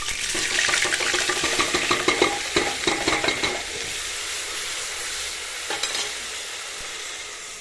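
Ground spice masala hits hot oil in a home kitchen pan and sizzles loudly with crackling spatter and stirring scrapes, then settles into a softer steady frying hiss.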